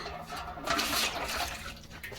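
Water gushes steadily from a pipe into a pot, a continuous close splashing rush that holds for about two seconds.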